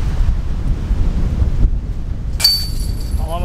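Wind gusting over a disc golf course, a low rumbling buffet against the microphone that drops away partway through, followed by a brief sharp higher-pitched sound near the end.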